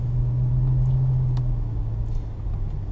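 Ferrari FF V12 engine drones low and steady as the car pulls away, a loud close cabin rumble with a few faint ticks and clicks above it.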